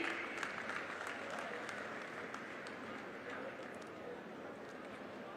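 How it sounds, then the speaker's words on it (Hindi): Sustained applause from a large crowd at an Indian government development project inauguration ceremony, a dense continuous clapping that gradually fades slightly, with a voice speaking over it. "और आप सभी की जोरदार तालियां बनी रहें।"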